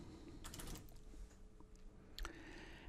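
Computer keyboard typing in a quiet room, with quick bursts of keystrokes, a pause, then a final flurry of taps; soft and close, with no talking.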